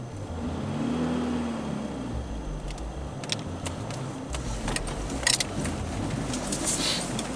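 A 1984 Pontiac Fiero engine hums low and steady as the car is put in gear and begins to roll, with a few light clicks and rattles nearby.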